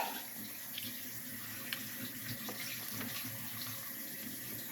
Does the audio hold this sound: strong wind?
no